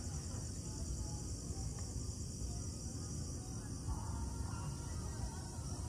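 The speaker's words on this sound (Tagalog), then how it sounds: "So merong mga kuliglig na maririnig." A steady high-pitched chorus of crickets trills continuously outdoors at night overlooking General Santos City, Philippines, with faint distant murmur beneath.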